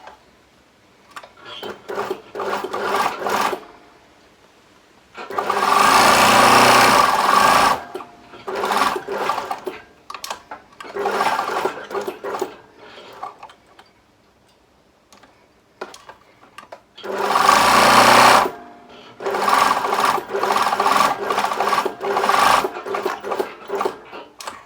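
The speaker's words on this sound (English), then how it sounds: "I'm just going to turn over the edges of the seam allowance at one end, sewing around and across the bottom and back up." A sewing machine stitching belt fastening pieces, running in several loud bursts of rapid ticking separated by quiet pauses, close by.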